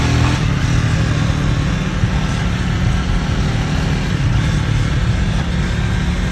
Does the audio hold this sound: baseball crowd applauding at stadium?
no